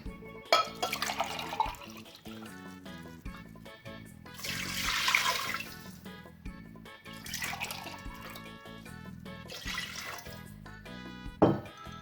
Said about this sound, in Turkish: hemen içine suyunu koyalım